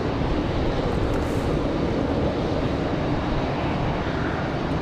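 American Airlines A319 jet departing Raleigh-Durham airport, a steady broadband engine roar that holds loud and even across the whole stretch, with no voices.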